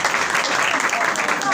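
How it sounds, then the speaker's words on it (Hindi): An audience claps at a Christian gathering in India, a dense, steady patter of applause filling the moment at moderate loudness without letting up. "आप सबकी ताली की गूंज में"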